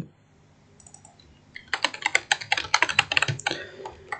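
A folder name is typed on a computer keyboard: quiet at first, then a fast, close burst of crisp key clicks for about two and a half seconds, with no talking.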